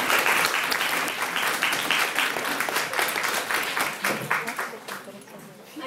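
An audience gives sustained applause after a speech at a debate competition grand final, a loud, dense wash of clapping that tapers slightly toward the end.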